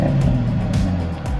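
Car from a personal collection, already warmed up, idling after start-up with a deep, loud engine rumble and slight rhythmic pulsing, close by with no talking over it.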